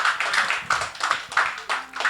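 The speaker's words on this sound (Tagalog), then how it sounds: "Malakas na palakpak sa biyaya ng Diyos." A church congregation claps loudly during worship, a dense burst of many hands in quick uneven waves lasting a couple of seconds, close and energetic.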